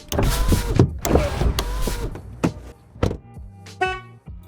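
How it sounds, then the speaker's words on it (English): Car power windows whir shut and doors lock with clunks, a run of mechanical motor hums and sharp clicks, finished by a short horn-like chirp of the locking signal, close and clear. "close all your windows and lock all your doors"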